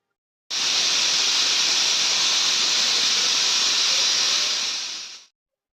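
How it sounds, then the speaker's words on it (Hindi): A kitchen pressure cooker on a gas stove releases a loud, continuous rush of steam for about five seconds, starting abruptly and then tapering off, with no voices. "तो कुकर में 2 सीटी आ चुकी है, गैस को बंद कर दिया"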